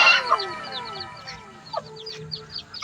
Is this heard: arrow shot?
no